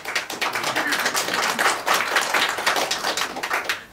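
An audience at a conference applauds a speaker's joke, a dense spread of hand claps rising and falling steadily for several seconds without talk.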